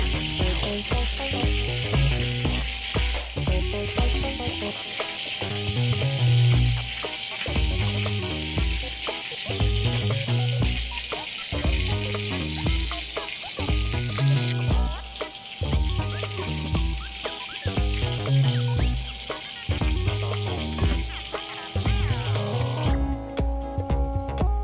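Chopped onion sizzles steadily in a hot pan, a continuous close, loud frying hiss with faint stirring scrapes, carrying on without voices for almost the whole stretch before ending with a brief change near the close.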